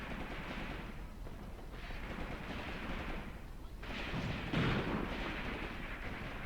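Distant, muffled gunfire and artillery rumble in Graviteam Tactics, a steady low roar with a few heavier thuds, quiet and far off.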